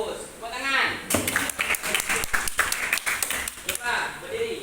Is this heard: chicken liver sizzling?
no